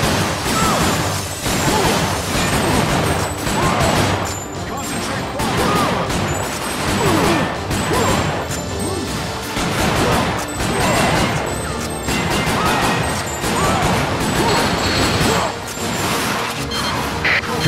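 Gunfire from the arcade shooter Time Crisis 4 keeps up a loud, continuous barrage of rapid shots and crashing impacts, with almost no pause across the whole stretch.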